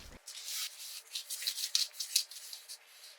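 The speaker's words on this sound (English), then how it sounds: "I brushed the stain on and wiped it down with a cloth to let that pretty wood grain show through" A cloth wipes wood stain across a wooden frame, giving soft, close, repeated rubbing strokes that swell and fade at a faint level.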